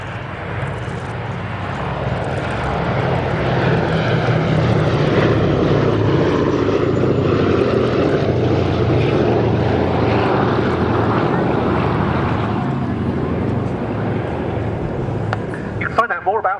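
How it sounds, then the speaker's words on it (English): Boeing B-17G bomber built at the Lockheed Vega plant in Burbank, California, flying past with a loud, sustained drone of its propeller engines that swells and fades across the pass. "a B-17G model that was built by the Lockheed Vega plant in Burbank, California"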